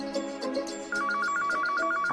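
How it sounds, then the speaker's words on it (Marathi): A household telephone rings loudly with a steady, repeating electronic chime that starts partway through, after a short stretch of soft domestic clatter. "आता कोणाचा फोन आला?"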